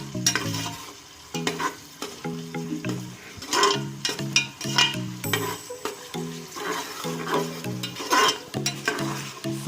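A full cup of onions fries in hot oil on a high flame, a steady sizzle broken by repeated clanking stirs of a spoon against the pan, close up with no talking.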